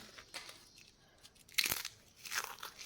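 A crispy homemade raw banana chip snaps with a sharp crunch, followed by a second crackly break, close and alone against a quiet room with a few faint small rustles.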